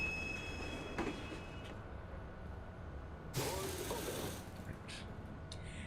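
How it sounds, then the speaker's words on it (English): A northbound train pulls into a station in a video game, a steady rumbling rail drone with mechanical clanks and a brief metallic burst partway through, heard on its own without talk. "Now I can go wait for the train to come."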